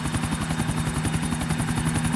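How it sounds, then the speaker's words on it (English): A helicopter in a video game chopper race to an island: a loud, continuous rotor thump with rapid, even blade pulses and a steady engine whine throughout, close and dominant. "we're going to flip the chopper around"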